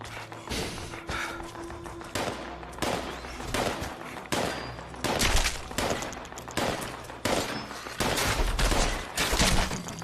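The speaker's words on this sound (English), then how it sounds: "I don't want to hear that gunfire anymore." Gunfire in the video game Fallout 76, repeated loud bursts of shots and heavy thumps in rapid, irregular succession, close and dominant with little else audible.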